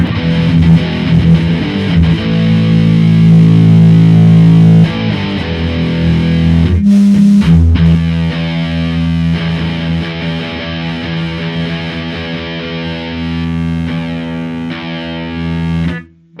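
Heavily distorted electric guitar through a humbucker pickup and a Line 6 Flextone II XL amp with an EV EVM12 speaker, playing thick, sustained chords and riffs, loud and saturated, with a brief pause midway before ending abruptly.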